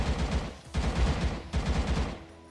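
Rapid automatic gunfire from a Minecraft-based survival shooter, loud and continuous in three dense bursts separated by brief gaps, with no talk over it.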